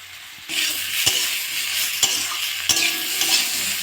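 Vegetables with turmeric, salt and cumin powder are sautéed for shukto, a loud continuous sizzle broken by three sharp scrapes or knocks of a spoon against the pan, with no talking.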